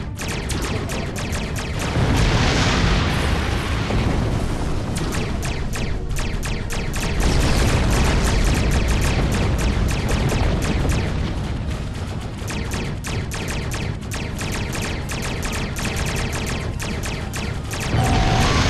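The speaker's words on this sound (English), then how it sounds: "Ship explosions cause damage" Starship explosions during space combat in Star Trek Online: a loud, dense stretch of repeated booming blasts and crashing impacts, with bursts rising and easing over time and no pauses.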